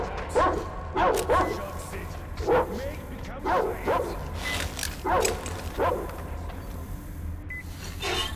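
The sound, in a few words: dogs barking in the video game Metro Exodus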